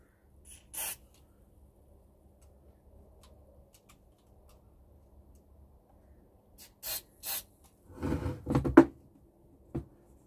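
Aerosol cleaner sprayed onto the volume and tone controls of a Philips 18RL481 Special Marine radio: a short hiss near the start, two brief bursts later, then a longer sputtering spray with rubbing, quiet and close, no talk.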